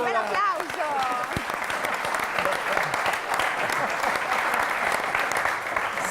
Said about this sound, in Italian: bel applauso